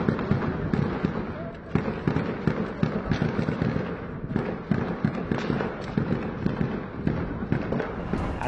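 Heavy-calibre gunfire in a street shootout in Morelia, Michoacán, as a group attacks state prosecutor's police officers. Loud, dense bursts of shots crackle nonstop, with voices mixed in.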